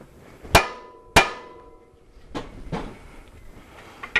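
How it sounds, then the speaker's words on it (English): Hammer blows on the lower control arm of a Honda Accord at the tapered lower ball joint, two sharp metallic clangs about half a second apart, then softer knocks and taps close by. "We're going to tap the lower control arm because once again it's also a tapered lower ball joint."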